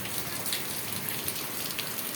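Steady rain pours down, a dense even hiss of drops striking a surface, with no voices.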